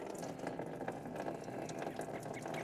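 Coolant trickles and splashes steadily from an unscrewed 2001 Ford Super Duty coolant bottle in a faint, continuous liquid pour with no talking.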